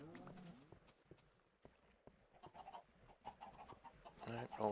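In Minecraft, chickens cluck in short bursts alongside clopping footsteps and game effects, with a louder squawk near the end.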